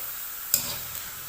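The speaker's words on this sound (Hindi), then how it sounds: "हमने आलूओं को मीडियम फ्लेम पे थोड़ा सा फ्राई कर लिया है।" Potatoes frying over a medium flame, giving a soft steady sizzle with a single sharp scrape of a utensil stirring in the pan partway through; brief and close, no voices.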